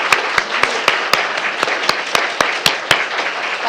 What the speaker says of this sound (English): Applause for our candidates.